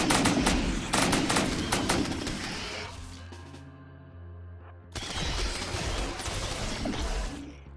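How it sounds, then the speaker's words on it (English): An exoskeleton minigun firing in a video game, loud rapid bursts of shots with a brief lull and mechanical whir in the middle before another sustained burst resumes, with no talk. "Exoskeleton minigun. Firing that's explosive."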